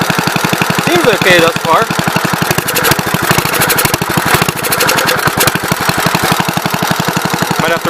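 A 1970 Gravely Commercial 8 tractor engine runs with a loud, fast, even chuffing beat that stays steady throughout, close up, while someone briefly talks over it.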